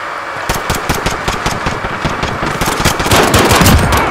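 M19 pistol gunfire in the Modern Warfare game's Gunfight mode: rapid, loud, close shots in a dense stream of sharp cracks, growing denser toward the end.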